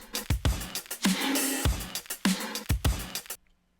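A drum bus played back dry with its compressor switched off: a short groove of punchy kick and snare hits with bright cymbal wash, loud and close, then ending abruptly in silence.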